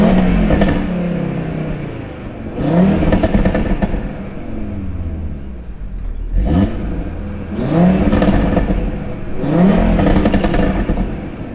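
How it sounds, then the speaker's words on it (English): Audi RS3 with a fully catless exhaust and its valve open, revving hard in repeated bursts, four loud rising blips with crackling falls between them, heard up close and alone. "Give you guys a little rev."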